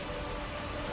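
Rain and hail falling in Nainital during a summer storm, a dense, even hiss of precipitation with no pauses, heard alone for a brief moment.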